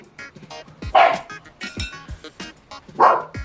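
Dogs bark indoors in a kitchen, with two loud, close barks about two seconds apart and shorter yips and whines in between.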